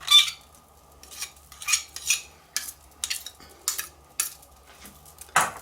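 A metal utensil scrapes and clinks against a saucepan while gathering the last of a lemon meringue pie filling, in short separate strokes at an irregular rhythm, close and fairly quiet with no talking.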